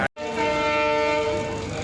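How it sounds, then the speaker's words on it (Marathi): A loud, sustained horn from the Pune to Madgaon Goa Express as it departs blares after a brief click of silence, holding a steady tone for nearly two seconds over faint rail noise. "गाडीनं दिला हॉर्न आणि लागली हिरवी लाईट आणि निघाली गाडी"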